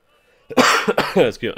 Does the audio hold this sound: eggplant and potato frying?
no